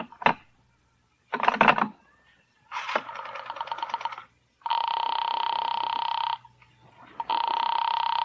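Old-fashioned telephone bell ringing during a 1949 radio crime drama as a call is put through to Sing Sing prison: an opening click, then rattling bursts and long steady double rings, loud and alone with no talk.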